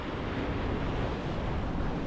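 Atlantic Ocean surf pounding a rocky shore in Puerto Rico, heard as a steady, dense roar of breaking waves with wind buffeting the microphone and no voices.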